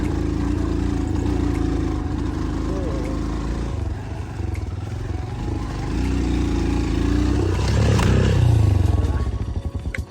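An unserviced motorcycle strains on a rough village road, its engine droning low and labouring, then revving harder and louder near the end, with a voice talking over it.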